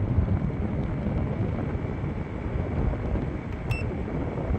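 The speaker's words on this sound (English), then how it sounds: "I'm going to sit in front of it for a minute so you can hear the wind" A portable EcoFlow Wave 2 air conditioner fan blows air straight at close range, a steady, continuous broadband rush with a brief faint beep near the end; no voices.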